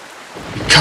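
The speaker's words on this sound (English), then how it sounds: "this place suffers under dark clouds and rain" Rain and a burst of thunder in the game The Legend of Zelda: The Wind Waker HD, set on a cursed island under dark clouds: a low rumble swelling into a loud, bright crack of thunder near the end over steady rain.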